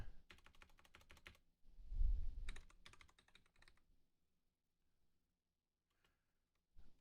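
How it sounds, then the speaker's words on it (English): Typing on a computer keyboard, rapid clusters of soft close clicks in two bursts with a brief low thump between them, followed by near silence and a final short tap. "I hope you enjoy the video feed of me typing."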